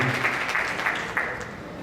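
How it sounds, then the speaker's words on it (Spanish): Audience applause at an award presentation during a world congress of forensic sciences, a steady wash of clapping at moderate level for about two seconds with a few sharper claps standing out. "Recibámonos con un aplauso."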